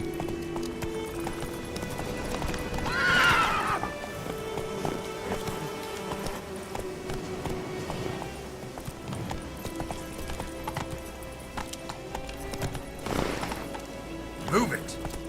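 A horse in The Witcher 3: Wild Hunt trots with steady rhythmic clip-clop hoofbeats, and two sharp whinnies rise above the hooves partway through and near the end, all under a continuous game soundscape.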